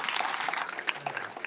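An audience claps at a lecture event, a brief dense burst of applause from a room of people, steady and moderately loud throughout.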